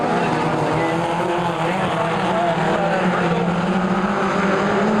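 Midget race cars roar around the dirt oval at Kihikihi Speedway in a loud, continuous engine drone, several cars overlapping with rising and falling pitch as they race past.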